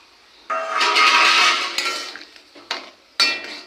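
Boiled mangoes tipped into a cooking pan for chutney, a loud sliding clatter and scrape of food and spoon against metal, followed by a few shorter knocks.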